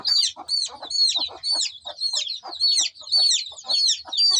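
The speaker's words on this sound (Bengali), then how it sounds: "এখন আমি মুরগি দিয়ে দিচ্ছি। মুরগিটা ধরেছি" Chickens cluck and squawk in quick, repeated bursts, close by and fairly loud, with constant agitated calling while one is held for a Ranikhet disease vaccine eye-drop dose.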